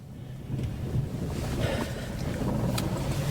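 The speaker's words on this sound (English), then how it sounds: "It's not even that cold. It's just windy." Strong wind buffets and roars steadily, with rough low gusting noise throughout and no voices.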